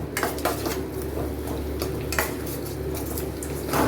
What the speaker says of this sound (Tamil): கொத்தமல்லி நல்லா வதங்கட்டும்.